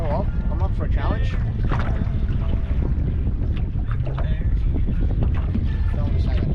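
Wind buffets and waves slap around a small fishing boat on Moreton Bay in rough westerly weather, a steady roaring wash with gusty noise on the microphone throughout.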